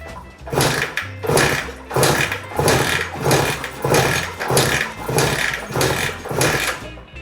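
A three-cylinder Suzuki GT380 two-stroke engine, with two spark plugs removed and ignition off, is kicked over repeatedly during a compression test, producing about ten rhythmic, loud chuffing turnover strokes in quick succession, close to the microphone.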